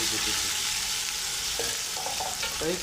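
Chopped onions fry in a pan for a cowpea usal, giving a dense, continuous hiss and crackle up close, with a faint voice briefly audible near the end.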